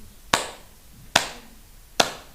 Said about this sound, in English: He clapped 3 times.